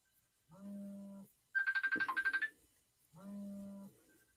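Electronic phone ringtone from an incoming call breaks in while someone is crocheting, a tonal melody of three repeated phrases with a rapid trilling burst in the middle, loud and close with no talk.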